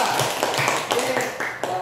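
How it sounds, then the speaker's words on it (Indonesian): A classroom applauding a student group, close, uneven claps from a small number of hands, loud and ragged, with voices talking over the clapping. "tepuk tangan dulu untuk kelompok 3"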